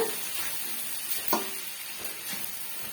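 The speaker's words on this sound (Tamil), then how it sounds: "இப்போ நம்ம சாதம் வந்து இந்த வானொலியில் சேர்த்துக்கலாம் கொஞ்சம் கொஞ்சமாக சேர்த்துட்டு இது போல் மிக்ஸ் பண்ணி விட்டுக்குங்க" Cooked rice being stirred into a sizzling pan, a steady hiss of frying underneath with scraping stirs and a couple of distinct utensil knocks, close and continuous with no voices.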